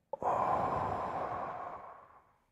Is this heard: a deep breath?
yes